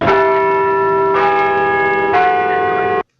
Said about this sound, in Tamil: டேய் சர்ச் பெல் சவுண்ட் வருதுடா.